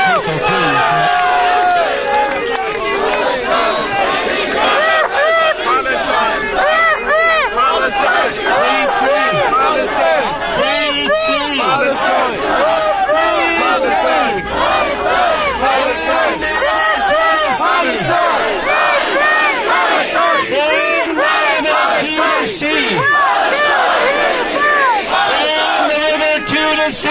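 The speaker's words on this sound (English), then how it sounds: "A round of applause for Richard Balboa, please, for his support" A large crowd at a Palestine solidarity rally in Dublin cheers, shouts and claps loudly and continuously, a dense roar of many voices throughout.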